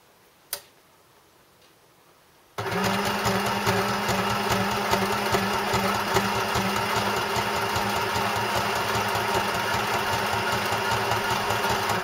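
A sewing machine starts after a short quiet pause with one small click, then stitches a zigzag in a fast, steady, rhythmic chatter that runs to the end.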